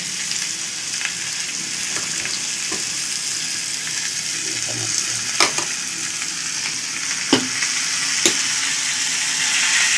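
Onion, green chilli and tomato paste fry in a pan with a steady, continuous sizzle, broken by a few sharp clinks and stirring scrapes, heard close and alone.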